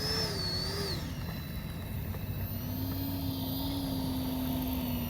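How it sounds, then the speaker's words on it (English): A FlyFans L-39 camo RC model jet flies past, its steady turbine-like whine rising and falling in pitch as it moves, loud over constant outdoor wind and rumble. "what a sweet, smooth flying L-39"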